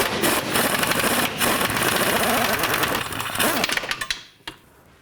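Impact wrench with an 18mm impact socket loosening a nut on the rear upper control arm of a 2004-08 Nissan Maxima, a loud dense hammering burst for about four seconds, then stuttering to a stop.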